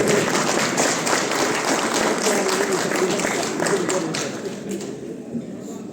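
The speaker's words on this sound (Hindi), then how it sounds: "तालियां बजाओ फिर अपने लिए।" An audience claps for itself, a dense burst of many hands at moderate loudness that slowly thins and fades toward the end, with voices mixed in.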